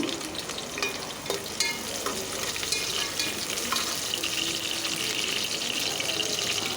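Sliced onion and green chilli fry in a pan for veg pulao, making a continuous loud sizzle and crackle with occasional stirring noises.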